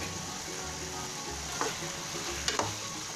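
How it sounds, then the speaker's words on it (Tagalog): Papaya pieces cooking in a pot for chicken tinola give a steady low simmering sizzle, with a couple of brief stirring clinks near the end. "naluluto na yung papaya"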